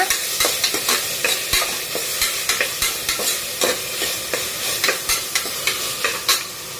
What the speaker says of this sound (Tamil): இஞ்சி பூண்டு பேஸ்ட்டு போட்டு நல்லா பச்சை வாசம் போகிற அளவுக்கு நல்லா வதக்கி விடுங்க